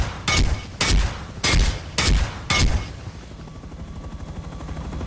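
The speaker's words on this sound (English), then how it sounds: "So if we fire these rockets," Rockets fired from a helicopter in the video game Rust burst out as five sharp, loud blasts in quick uneven succession, then give way to a low rumbling hum.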